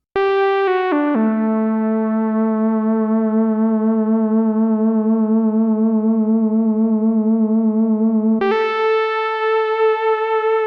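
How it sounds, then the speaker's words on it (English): One bright synthesizer tone, a single saw oscillator, holds a sustained sawtooth note, steps through a few pitches, and evolves slowly as its filter opens and sweeps under an envelope, with reverb and EQ. "literally is just one single saw oscillator through a really, really dialed in bit of mood filter and envelope action"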